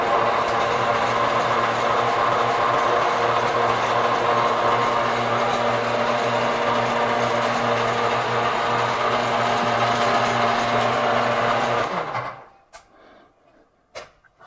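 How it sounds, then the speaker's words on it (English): A lathe turns a copper water tank down to size, a steady loud mechanical whir with constant tonal hum and spindle rattle running for about twelve seconds, then stopping abruptly into near silence with a couple of faint clicks. "Now I can turn this to size on the lathe."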